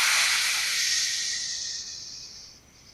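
Fizzing liquid is poured into a well and gives a steady, bright hiss that slowly thins and fades away over a few seconds.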